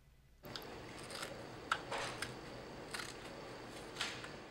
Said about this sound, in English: this is the time where we use our former blank cutter and cut out the shape